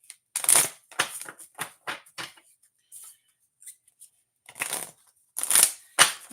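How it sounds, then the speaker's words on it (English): Tarot cards are shuffled in a series of quick riffling bursts, crisp and close, separated by short pauses, with no talk. "when you want me to stop shuffling for the number cards"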